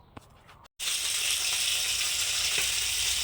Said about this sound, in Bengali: তেলের ওপরে কালো জিরে রসুন আর শুকনো লঙ্কা ফোড়ন দিয়েছি